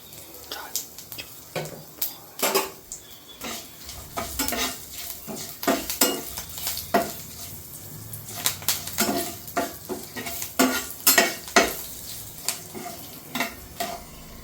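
Spices and asafoetida crackle and sizzle in hot oil for tomato dal tempering while a spoon clinks and stirs against the pan in quick irregular bursts, close up.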